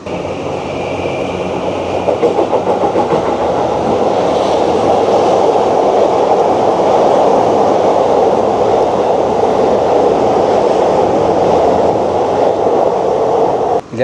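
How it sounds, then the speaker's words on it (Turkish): A train passes close by on a Tokyo street, producing a loud, sustained rumble and steady rail rush that holds for the whole stretch, with no speech. "belki tren bir an geçer de güzel bir video böyle footage alırız"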